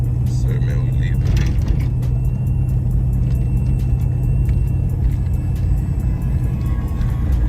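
A box Chevy fitted with two 15-inch American Bass subwoofers drives along, a steady low engine and road rumble running throughout with people talking over it.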